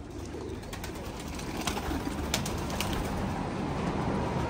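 Pigeons coo softly in low, repeated murmurs under a steady outdoor hiss and wind rumble, with faint wing flutters now and then and no talking.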